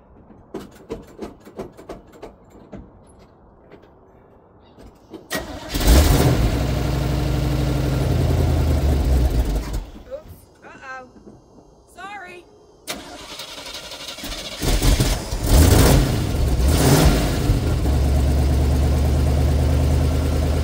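A car engine is cold started on a cold morning. The starter cranks and the engine catches, then it roars loudly and settles to a rough idle. Voices talk and it revs again near the end.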